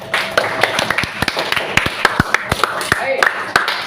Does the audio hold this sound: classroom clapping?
yes